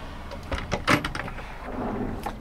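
A drawer in the kitchen unit of a 2022 Font Vendôme Duovan camper van slides open, giving a few short clunks and a soft sliding rattle close by, with no talk.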